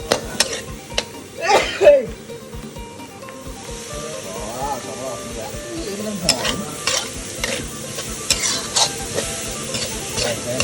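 Continuous stirring and scraping in a hot wok over high heat, stir-frying spicy frog with fish sauce, with a steady sizzle, utensil clinks scattered throughout, close up and moderately loud.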